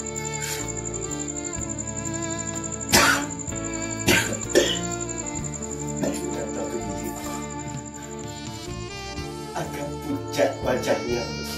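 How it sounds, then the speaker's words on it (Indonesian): Several sharp coughs from a woman break through a steady musical background with a voice, a few heavy ones early on and smaller ones later. "aku terdengar ibu terbatuk-batuk."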